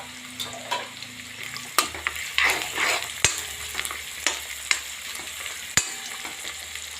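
Onion and cashews fry in ghee for palak rice: a close, crackling sizzle punctuated by frequent spatula taps and scrapes on the pan, with no voices.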